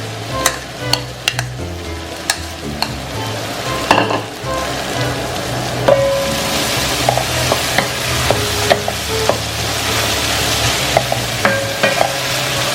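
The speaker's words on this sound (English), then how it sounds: "Keep mixing the potatoes" Mashed potatoes mixed in a hot pan for mushroom cutlets give a steady sizzle, broken by repeated sharp scrapes and knocks of the spoon against the pan, close and fairly loud.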